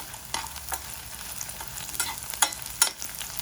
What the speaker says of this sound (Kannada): ನಾಟಿ ಈರುಳ್ಳಿ ಮತ್ತು ನಾಟಿ ಬೆಳ್ಳುಳ್ಳಿನ ಚೆನ್ನಾಗಿ ಎಣ್ಣೆಯಲ್ಲಿ ಫ್ರೈ ಮಾಡ್ಕೊಳ್ಬೇಕು